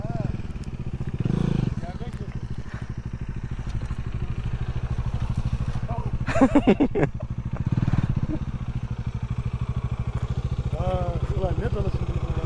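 A mini off-road motorcycle engine buzzes steadily nearby throughout and briefly rises when the throttle is blipped, with people talking over the engine noise.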